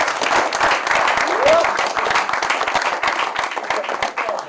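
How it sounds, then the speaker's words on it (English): A final round of applause from the audience fills a men's health conference hall, steady dense clapping throughout with some voices and a short cheer mixed in. "So let's do one final applause for all of you for showing up."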